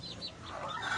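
Chickens being fed give a brief burst of close, soft clucking and murmuring calls, lasting only about a second.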